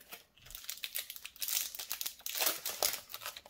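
A Pokemon XY BREAKpoint booster pack's foil wrapper is torn and crinkled open up close, a run of sharp crackling rips and crumples over a few seconds with no talking.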